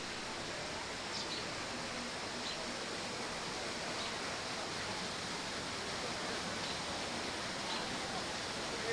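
Water rushes steadily at a replica water-powered sawmill at an amusement park, a continuous broadband flow like a small waterfall or millrace, close and even throughout with no clear talk over it.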